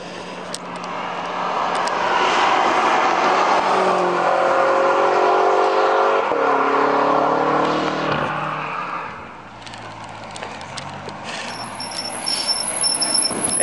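A 2015 Nissan GT-R Black Edition and a BMW M5 Competition Package approach with a swelling engine roar and rising whine that peaks, fades briefly, then builds again, loud and close with no voices.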